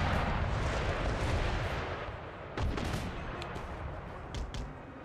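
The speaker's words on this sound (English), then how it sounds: "Keep blasting them with canister." Artillery firing canister shot in the Empire: Total War video game, a dense, continuous roar of cannon and gunfire with repeated booming blasts layered over one another throughout.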